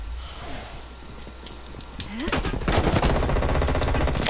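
Rapid automatic gunfire from the video game Call of Duty: Black Ops Cold War erupts loud and dense after a quieter stretch of in-game ambience, continuing as a steady rattling burst to the end.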